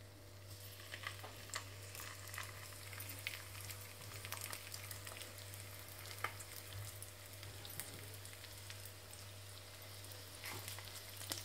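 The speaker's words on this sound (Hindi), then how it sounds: "अब तेल गर्म हो गया है तो हम एक एक पीस जो है वो हम फ्राई पैन में डालते हैं।" Marinated tandoori fish pieces fry in hot oil in a pan, giving a steady, quiet sizzle with scattered crackles and pops over a constant low hum.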